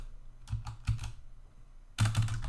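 Short bursts of keystrokes on a computer keyboard as a title is typed, a few close clicks, a pause, then a faster loud flurry at the end.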